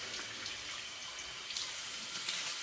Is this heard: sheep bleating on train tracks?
no